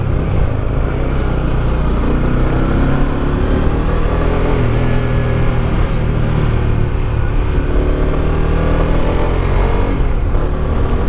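Honda CB150X 2022 motorcycle engine pulling hard up a long, steep hill in third gear around 6000 rpm, a loud steady drone with rising and falling pitch and wind rush throughout.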